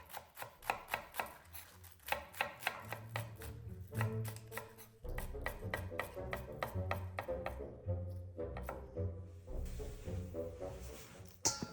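Green onions are chopped on a cutting board with rapid, evenly spaced knife strikes, a steady rhythmic clatter close up, unaccompanied by any voice.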